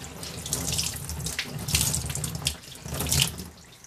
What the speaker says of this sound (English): Got the cold water on.